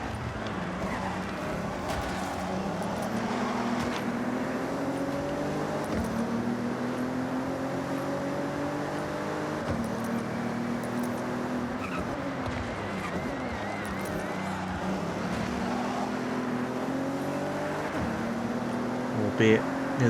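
Engine of a Mercedes-AMG SL making nearly 400 horsepower from a smaller-than-usual engine, driven in Forza Horizon 6: a continuous mid-level drone whose pitch climbs and drops with gear changes, heard under a talking voice.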